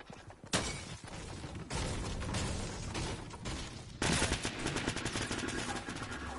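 Gunfire in the video game Fortnite crackles in repeated rapid bursts and single sharp shots, busy and fairly loud throughout, with no talk over it.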